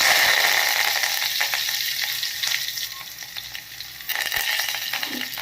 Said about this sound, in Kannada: ಕಾದ ಮೇಲೆ ಸಾಸಿವೆ, ಸ್ವಲ್ಪ ಜೀರಿಗೆ, ಜಜ್ಜಿದ ಬೆಳ್ಳುಳ್ಳಿ ಹಾಗೆ